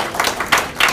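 Audience applause at a St. Louis Board of Education meeting, a steady close patter of many hands clapping in short surging bursts, with no speech over it.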